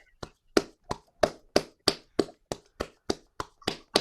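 One person claps at an online poetry evening, a dozen sharp, evenly spaced claps in a steady rhythm, close and clear with quiet between them.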